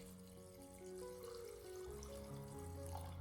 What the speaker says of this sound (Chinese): 接着再往里面添加大量的清水